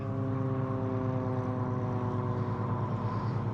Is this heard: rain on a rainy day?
no